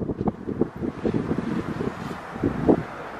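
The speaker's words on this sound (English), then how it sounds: "It is so windy out there." Strong outdoor wind buffeting the microphone in uneven gusty bursts, close and rough, with no clear speech over it.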